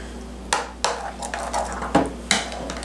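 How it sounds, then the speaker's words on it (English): Yogurt and blueberries mixed together in a bowl, with a spoon knocking and scraping the sides in several sharp taps and clinks, close and alone. "I'm just going to mix mine totally together"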